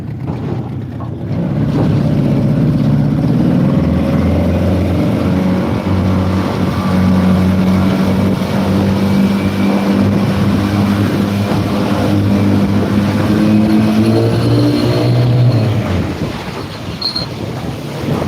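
A Yamaha-powered jet boat, a Hydro Lab Boxer 410, runs with a loud steady engine drone and jet rumble, rising after a brief quieter start, holding strong and close throughout with no talking.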